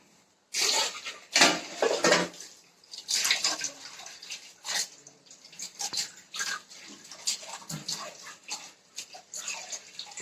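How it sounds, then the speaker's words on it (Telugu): A towel being soaked under running water in a home kitchen while preparing chicken biryani, giving a steady splashing and trickling wash with irregular louder bursts, close and alone without talk. "ఈ టవల్ని నేను తడి చేసి దాని మీద వేస్తాను"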